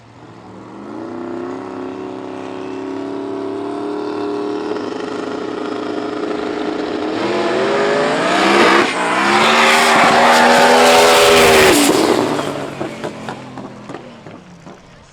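Drag racing cars in the 235 Outlaw class at a radial race day: high-revving engines build from a steady drone into a loud, rising roar as they launch down the strip, with tire squeal, then fade.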